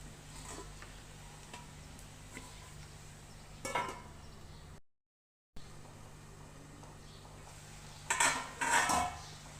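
A lid clatters onto a pan of ridge gourd and tomato curry in a quiet kitchen, a few faint metallic taps followed by a brighter clink and rattle.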